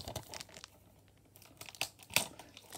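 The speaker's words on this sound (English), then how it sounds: "Okay, so I can unwrap it." A wrapped present is being unwrapped, with quiet bursts of paper crinkling and tearing close by, several scattered rustles and sharp crackles separated by brief pauses.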